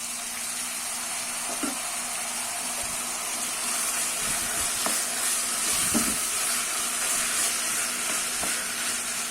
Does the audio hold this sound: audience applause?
no